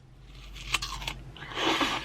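Crunchy Korean persimmon fruit is bitten with two sharp crisp snaps, followed by close, wet crunching as it is chewed, with no talk.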